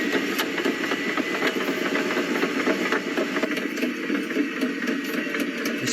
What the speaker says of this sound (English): it's just a bulldozer doing bulldozer stuff